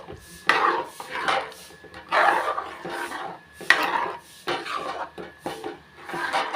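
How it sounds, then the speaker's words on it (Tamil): A spoon scrapes and knocks around a metal pot of vegetable kurma in repeated strokes, close by, with a faint hum underneath. "நல்லா மிக்ஸ் பண்ணி விட்டுலாம்"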